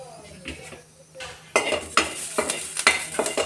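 Green chillies, garlic and curry leaves fry in a pan for turkey berry chutney, a low sizzle with spoon scrapes that turns louder and busier halfway through, with repeated sharp clinks of metal on the pan.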